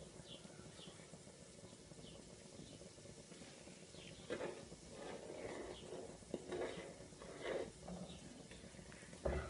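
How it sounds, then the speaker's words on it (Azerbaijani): A pot of sour cherry jam boils softly, giving a faint, steady bubbling hiss with occasional small pops and a few light stirring knocks, quiet and close. "Mürəbbə artıq qaynayır"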